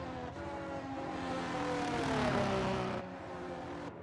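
F1 race cars on a wet-track formation lap at Shanghai in the F1 23 video game, engines droning steadily with tonal whine that rises in pitch and swells toward the middle before easing back, with no talk.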